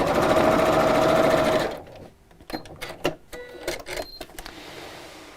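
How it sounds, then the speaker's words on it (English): A sewing machine stitches fabric at a steady, fast whirring drone for almost two seconds, then stops, followed by scattered clicks and handling knocks close by. "carry on sewing"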